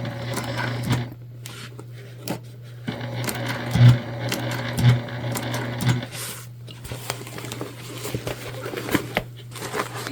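A sewing machine stitches over plastic zipper teeth while sewing a gift bag, a steady mechanical hum broken by clacking bursts and a few louder knocks as the needle crosses the teeth.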